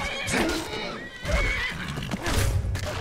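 A horse neighs loudly and kicks out at a wolf in the video game Skyrim, a shrill whinny followed by scuffling thuds and hoof impacts, with a voice talking over it.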